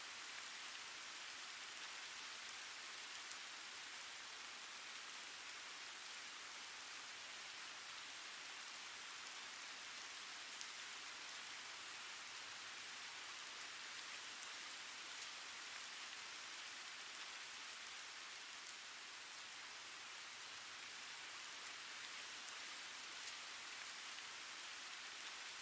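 Steady rain falls as a gentle, even hiss for the whole stretch, used as a backdrop in a guided meditation, with no thunder and no voices over it.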